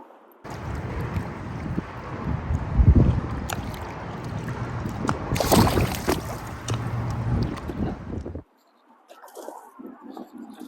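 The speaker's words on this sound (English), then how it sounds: "Fighting this wind. It's pretty brutal right now." Strong, brutal wind blowing over the water while fishing from a small piece of bridge left after Hurricane Katrina, a loud continuous rushing roar with buffeting gusts for about eight seconds before dropping to quiet.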